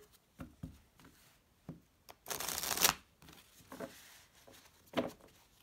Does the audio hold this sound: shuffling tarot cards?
yes